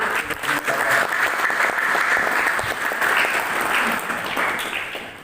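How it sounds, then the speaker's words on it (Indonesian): Audience applause at an installation ceremony for a regional Pesparawi development board, a loud, dense burst of clapping that holds steady for several seconds and then starts to fade. "Mari kita beri aplaus"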